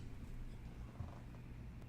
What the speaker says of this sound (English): I hear purring.